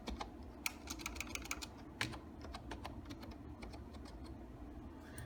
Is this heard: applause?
no